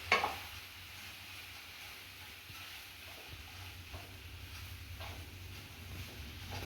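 Rice being stirred with a spoon in a cooking pot after a spoonful of salt is added, a soft continuous scraping and stirring with a faint sizzle, close and steady, with no talk.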